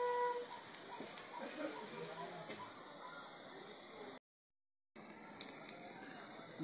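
Jackfruit fritters frying in oil in a wok, a steady close hiss and sizzle with faint crackles, broken by a short silent gap before the sizzling resumes.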